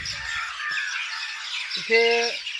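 A flock of birds chirps busily in trees near a Shri Swami Samarth math, bright overlapping twitters throughout and a sharp squawking call toward the end.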